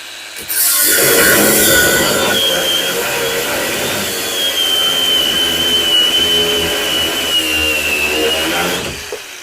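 A Grosser GAG 120N cordless brushless angle grinder cuts through round steel bar at first speed, a loud, sustained high whine with gritty grinding and a rising tone held for about eight seconds.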